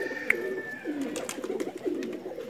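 A pigeon, a 79 cross golden racing bird, coos in repeated low throaty phrases, close and fairly loud, with a brief sharp click near the start and faint background chirps.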